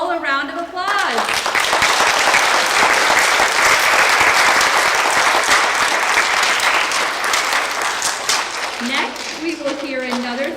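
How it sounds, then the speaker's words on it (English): A school audience at a second-grade moving-up day gives incoming third graders a round of applause, loud dense clapping for most of ten seconds, with a voice speaking briefly before it starts and again as it ends. "Let's give them all a round of applause."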